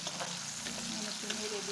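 Chopped onion frying in oil with garlic for a sweet pumpkin dish, a soft, even sizzle that stays steady and fairly quiet throughout, no talk.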